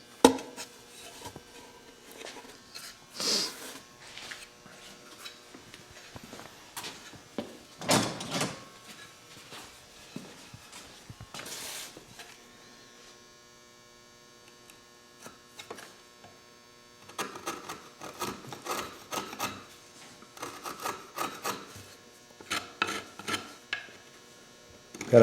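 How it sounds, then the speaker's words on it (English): A very sharp chisel shaves wood off a ukulele neck at a dovetail joint, giving a few isolated scraping strokes and then a denser run of short rasping cuts over a steady low room hum. "I'm going to shave a little bit off the neck to have it fit perfectly."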